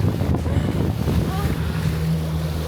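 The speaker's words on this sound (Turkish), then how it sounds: "Rüzgardan ben kendimi duyamıyorum şu anda" Strong storm wind roars and buffets continuously on a boat at sea, with rushing water and sea spray noise underneath.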